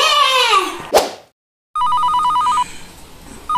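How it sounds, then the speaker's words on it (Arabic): A telephone rings in a home in a repeated electronic trill that sounds loud and close, following a baby's cry and a brief sharp knock, then a moment of silence. "عم يرن التليفون"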